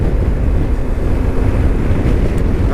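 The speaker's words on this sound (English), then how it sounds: "It's very windy" Strong wind buffets the microphone in a steady, loud roar, with a low rumbling rush that never lets up, on a cold 8-degree day in Perthshire.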